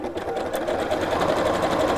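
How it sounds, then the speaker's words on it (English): A domestic sewing machine stitches around the inside of fabric with a steady, close, whirring mechanical rhythm that runs unbroken throughout, with no talking. "This is going to be too narrow to use the free arm on your sewing machine"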